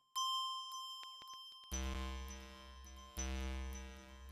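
A pluck preset on a Poison-202 synthesizer plays bell-like tones: a few faint dings, then three loud struck notes with bright ringing harmonics that decay under each new hit.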